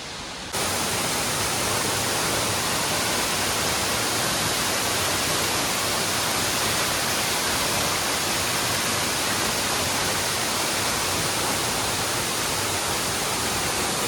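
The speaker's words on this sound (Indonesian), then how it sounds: "Akhirnya tibalah kita ke Coban Ubud Kembar. Ternyata air terjunnya sangat tinggi." Coban Ubud Kembar, a very tall waterfall in Malang, roars as a constant broadband rush of falling water, loud and close, unbroken throughout with no voices.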